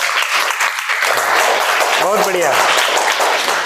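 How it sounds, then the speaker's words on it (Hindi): Audience clapping for Sunita Williams fills the whole stretch as a dense, steady wash of crowd applause, with a short voice speaking briefly over it near the middle. "सुनीता विलियम के आने की खुशी में उनके लिए तालियां बजाइए सब लोग"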